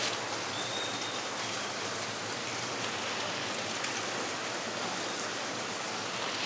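Steady rain falls on surfaces outside a home, a soft, even hiss of drops continuing throughout with no breaks, fairly quiet and with no one talking.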